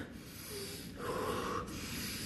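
Forceful pranayama breathing during a yoga class: a couple of sharp, snorting nasal exhalations close to the microphone, in quick rhythm over a quiet room with no talk.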